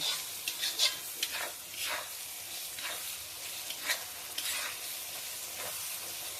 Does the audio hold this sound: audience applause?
no